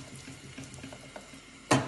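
Sugar syrup for honeycomb bubbles in a pan with soft, irregular pops and gurgles at close range, ending in a louder burst of sizzle.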